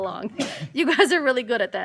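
A single brief sneeze from an adult man bursts out early, then someone talks right afterward.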